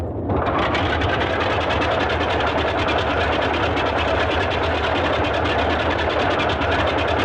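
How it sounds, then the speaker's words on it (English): A simulated Boeing 247D piston engine in Microsoft Flight Simulator catches and settles into a steady, loud, rapid chugging drone that holds evenly throughout. "The engine definitely makes a noise, but the starter doesn't."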